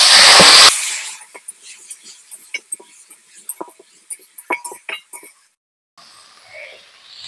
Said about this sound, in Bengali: অল্প পরিমাণে আমি জল দিয়ে দেবো।